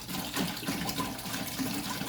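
Water pours steadily into a container while a homemade dishwashing liquid is being mixed, a continuous splashing gush at moderate level with no talk.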